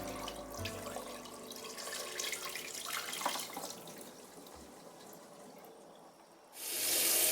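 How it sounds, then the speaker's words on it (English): Water splashes and trickles as it is poured out of a pot of face masks being rinsed, with light drips and clinks, ending in a louder rushing gush. "I will pour it off and add more."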